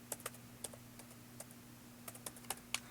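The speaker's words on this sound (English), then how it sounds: "type in our IP" Someone types an IP address on a computer keyboard to join a modded Minecraft 1.7.10 server, giving a series of sharp, irregular key clicks close by over a low steady hum, with no talking.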